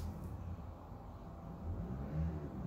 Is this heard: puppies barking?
no